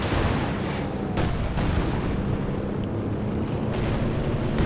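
Dense, continuous artillery barrage from the Company of Heroes 2 video game, with heavy rumbling booms and sharp explosive cracks near 1.2 and 1.6 seconds, sustained and loud throughout with no talk.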